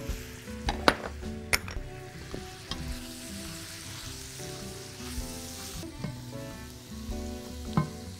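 Onion frying with chicken in a pan gives a steady sizzle, broken by sharp clinks and scrapes of a utensil against the pan, with no one talking.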